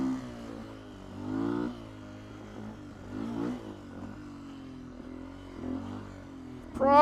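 Engine of a 2019 Beta 125 RR-S dirt bike while riding, a low steady hum with rising and falling harmonic sweeps as the throttle opens and eases, plus a sharp rev surge at the end.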